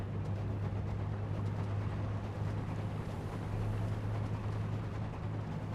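A tugboat engine in the Seafarer: The Ship Sim video game runs at full power with a steady low drone. Sea wash and wind noise sit on top of it, unbroken and even for the whole stretch.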